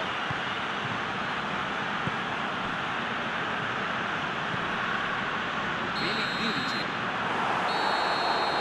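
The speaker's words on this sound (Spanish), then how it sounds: "Suena el pitido del árbitro, final de la primera mitad" In the football video game PES 2021, a Serie A match between Sampdoria and Sassuolo, a referee's whistle shrills twice near the end over a steady roar of crowd noise in the stadium.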